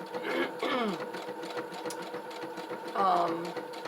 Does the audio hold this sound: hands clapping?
no